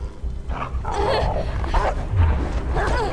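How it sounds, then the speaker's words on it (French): Two dogs in the video game Beyond: Two Souls bark and snarl loudly and continuously, a rough, growling din with some voice mixed in. "il y a vraiment deux chiens là"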